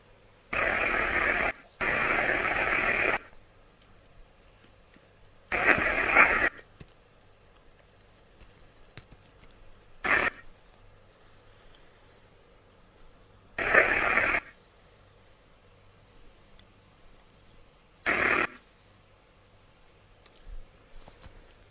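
A radio scanning device sweeps through channels, giving repeated bursts of loud hissing white noise, some long and some brief, spaced irregularly between stretches of near silence over about twenty seconds.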